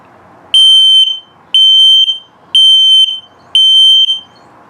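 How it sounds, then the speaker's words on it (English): RV LP/carbon monoxide detector in a 2022 Puma 28BHS travel trailer giving its low battery alert: four loud, shrill electronic beeps at a steady one-per-second pace over faint background noise. "Okay, and then of course the low battery alert."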